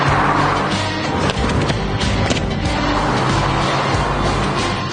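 A sluggish Peugeot is driven in a race through Liverpool streets, its engine droning loud and steady with tire and road noise throughout, with no talking.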